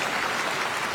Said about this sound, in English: Congratulations. Round of applause.